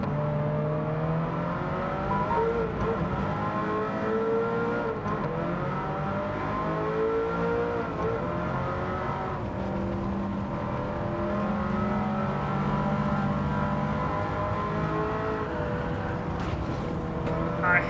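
A front-engine, rear-drive race car in Gran Turismo 7 roars continuously through S-bends, its engine pitch climbing and falling with shifts and throttle, loud and close throughout.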